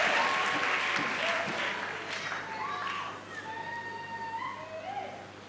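A church congregation in a deliverance ministry service applauds in acclamation of Jesus Christ, a moderate wash of clapping that slowly fades, with voices calling out over it.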